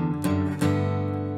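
Acoustic guitar in DADGAD tuning plays a short descending bass run from the chorus of The Wild Rover, two plucked note attacks ringing into a sustained open chord, close and quiet.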